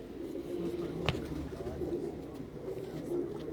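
A Parwazi pigeon coos in a low, steady, throaty murmur close by, continuous under a brief sharp knock, with no talk.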